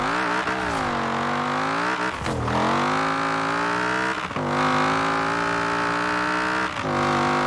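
A race car engine in Forza Horizon 4 screams at high revs, climbing through the gears with brief dips at each shift, loud and continuous with no talk.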